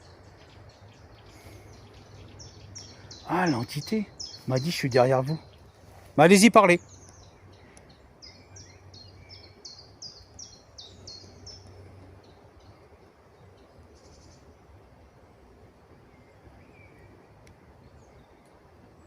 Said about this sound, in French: À part les oiseaux qui chantent, j'entends que ça.